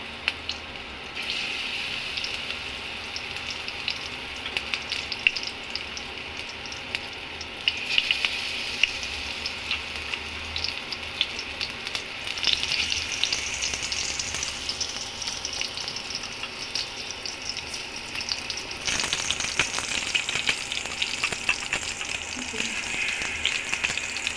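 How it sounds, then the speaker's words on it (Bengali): Bok flower fritters fry in oil in a frying pan, giving a continuous close, crackling sizzle with faint stirring and light clatter throughout. "সবগুলো ভরাকে উল্টে পাল্টে ভেজে দিতে হবে"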